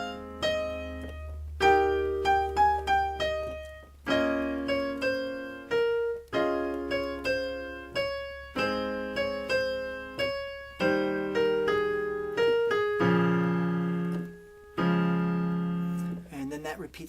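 A piano plays a simple melody, with clear sustained chords and single notes in a steady sequence of phrases, played alone and up close.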